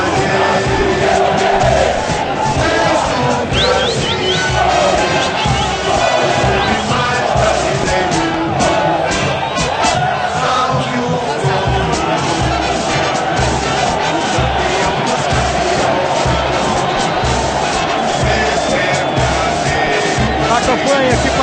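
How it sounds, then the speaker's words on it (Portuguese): Corinthians supporters roar, chant and cheer throughout a packed stadium at the Copa Libertadores final against Boca Juniors, a dense, sustained wall of crowd noise with rhythmic shouts swelling and falling. "a comemoração com a torcida"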